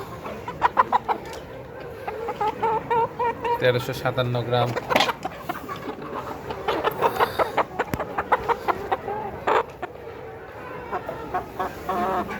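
A 16-week-old layer pullet weighing about 1.2 kg clucks and squawks repeatedly at close range while being lifted, as a person talks over it.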